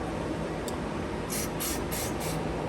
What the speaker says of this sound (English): But I'll shoot some spray up into there.